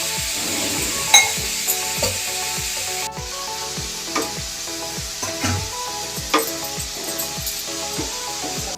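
Grated coconut dry-roasting in a pan, stirred steadily so it doesn't burn, with regular scraping strokes and clinks of the spatula over a soft background hiss, close and continuous with no talk.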